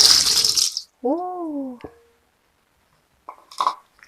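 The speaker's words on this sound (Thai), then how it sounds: "ก็จะเติมน้ำอีกนะคะ จะได้ใหญ่ๆเนาะ" Water is poured into a basin of Orbeez, making a brief, loud, close splashing rush that stops after under a second. A short voiced sound follows, then near silence and a few faint knocks.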